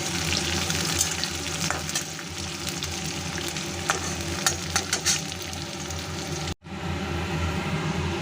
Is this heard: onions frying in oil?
yes